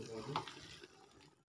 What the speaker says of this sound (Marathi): परातीमधील पाणी आता गरम झालेलं आहे आणि आता आपण ते चिकन मध्ये घालूया